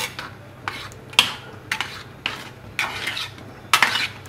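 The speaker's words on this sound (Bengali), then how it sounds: "এবার ডালটাকে একটু নাড়িয়ে চাড়িয়ে নেব।" Lentil dal seasoned with salt, turmeric and chilli is stirred in a pan, a spoon scraping against the metal in about eight brisk, evenly spaced strokes, close and clear with no voices.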